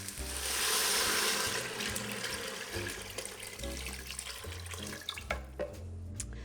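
Water streams from a pitcher onto dry beans in an Instant Pot, a steady broadband pour that surges loud early and then eases into a softer trickle with small splashes and clinks toward the end.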